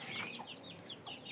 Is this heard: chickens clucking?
yes